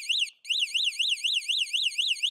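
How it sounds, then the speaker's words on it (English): An Electric Bike Company Model E e-bike's alarm siren, set off from its key fob, wails loud and close in a fast, steady warble of rising and falling cycles after a brief break, with no talking. "it does have a siren, so you can just hit that. The bike's going to go off."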